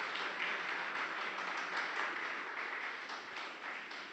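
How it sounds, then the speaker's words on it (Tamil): An audience at an astrology talk breaks into applause, a dense, even wash of many hands clapping, moderately distant and sustained with little variation throughout. "இன்னொரு முறை கரகோஷம் கொடுத்தீங்கன்னா ரொம்ப பெருமையாக இருக்கும்"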